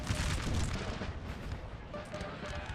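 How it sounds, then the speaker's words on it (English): Artillery booms roll through a large Napoleonic Total War 3 battle, a continuous dense rumble of cannon fire and distant explosions with no distinct single shots. "The artillery really is what's hurting this Russian or French line."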